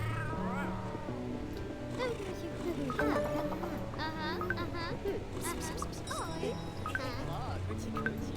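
A robot cat in the game Cat Cafe Manager meows amid a busy, dense chorus of several cat meows and caterwauls, with jingly game tones and a voice talking underneath.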